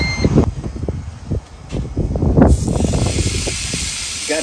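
Steady broadband hiss of food sizzling on a Ninja outdoor wood-fire grill, loud and continuous, with crackling pops scattered through and a brief lull midway.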